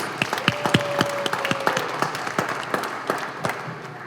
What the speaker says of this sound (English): How about another round of applause for the three of our speakers?